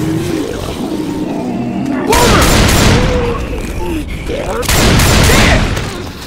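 Gunfire in Left 4 Dead 2 erupts in two loud, dense bursts of shots and booms, close and harsh, with game noise and voices between.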